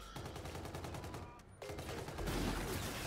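Gunfire in an online shooter game where a KBS Longbow sniper rifle is in use, a dense run of repeated shots and rattling bursts at steady volume, fairly faint, with no speech over it.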